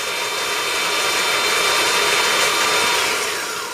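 A Cyclone 3000w mid drive motor on an eBike runs at full throttle, giving a steady, loud high-pitched whine with broadband rushing noise that holds constant and then eases slightly at the end.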